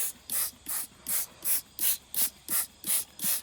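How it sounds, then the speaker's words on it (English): A spray bottle misting water onto coffee-dyed paper, about ten evenly spaced, close hissing squirts in a steady rhythm. "Spray this down."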